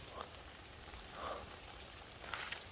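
Rain falling in a forest on a mountain, a faint steady hiss of drops pattering on leaves and ground, with a few slightly louder splashes toward the end.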